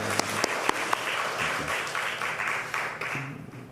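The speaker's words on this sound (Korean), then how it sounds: "우리 수고한 여성교회 박수하겠습니다" Church congregation applauding its women's group after a shared meal, a moderate, steady round of clapping with a few sharper claps near the start and faint murmuring voices underneath.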